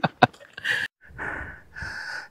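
Heavy, labored breaths from hikers climbing a steep lane on a warm day, a few sharp gasps followed by longer rasping exhales and inhales close to the microphone.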